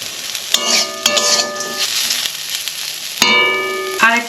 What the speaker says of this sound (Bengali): করলাগুলো তেল দিয়ে কড়াইতে ভালো করে ভেজে নিয়েছি